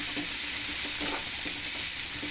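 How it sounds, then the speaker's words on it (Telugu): Eggplant pieces frying in oil for a vankaya curry, a steady close sizzle with faint stirring scrapes throughout and no voices. "దీన్ని బాగా నూనెలోనే ఫ్రై చేసేసుకోవాలి."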